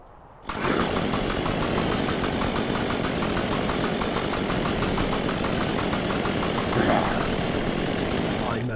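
A small vehicle's engine runs steadily in the survival game Unturned, a continuous mid-pitched hum with a faint knocking texture that starts abruptly and holds at an even level for several seconds.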